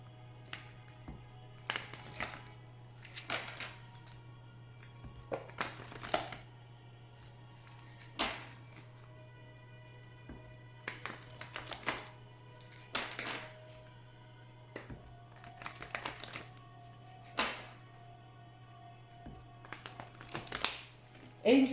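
Oracle cards being shuffled in bursts of papery riffling and slapping, close and fairly quiet over a constant low hum, with pauses between shuffles.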